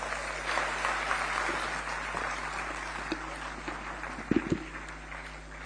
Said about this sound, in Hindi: आप सबकी जोरदार तालियों के अभिवादन के साथ